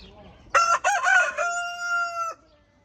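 A rooster crows once, loud and close: a few choppy opening notes, then a long sustained tone that cuts off sharply.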